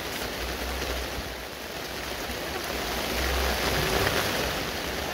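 Heavy rain pours steadily during a town fair in Cuerámaro, Guanajuato, Mexico. The dense, hissing downpour is close and continuous and swells slightly partway through, with a low rumble underneath.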